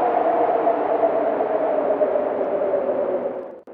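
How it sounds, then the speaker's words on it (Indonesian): A steady whooshing wind sound effect, a broad hollow rush with an echoey, moaning tone that holds constant and then cuts off abruptly at the end, with no voices. "Ya, itu adalah suara angin"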